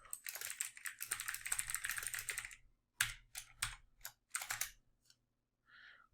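Computer keyboard typing in bursts of quick clicks, a dense run of keystrokes followed by shorter separated clusters and a brief pause, close and moderately loud, with no talking.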